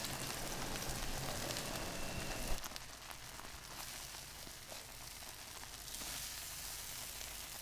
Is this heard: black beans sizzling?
yes